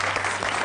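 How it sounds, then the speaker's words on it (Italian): A studio audience at a TV cooking show claps in a short, dense burst of applause, close and fairly loud, with no talking. "La salutiamo anche oggi. Applauso, please."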